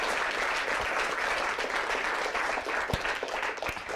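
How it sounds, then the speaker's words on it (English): An audience at a fisheries sustainability summit gives steady, enthusiastic applause at the close of a talk, many hands clapping together in a continuous, moderately loud burst. "if everyone could give another last round of applause"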